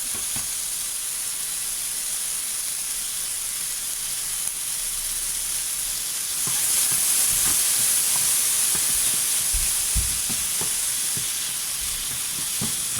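Steak frying in a pan for a meat and potato pie gives a steady hiss that swells into louder sizzling partway through, with scattered pops and crackles, close by and without talk.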